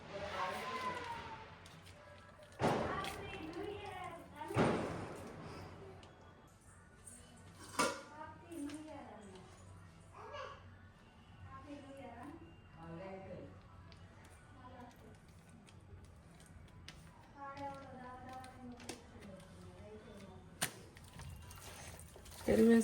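A spoon clinks and scrapes against a pot while curd is mixed into biryani masala. Irregular metallic knocks and wet stirring sounds come up close, with a person speaking in between.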